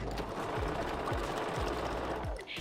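A sewing machine back stitching a wig closure runs steadily at close range, with a rapid mechanical whir and regular thumping beats from the needle.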